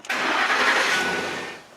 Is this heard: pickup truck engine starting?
yes